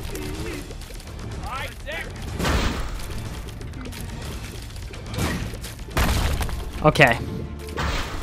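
Bomb blasts in The Binding of Isaac, several dull booms and crashes spread across a busy game soundtrack, with someone talking over them.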